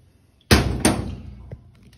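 A hammer strikes a shifter wrench clamped on a leaking household tap to turn it anti-clockwise, giving two loud, sharp metallic whacks in quick succession, a fainter knock after, and a short ringing decay.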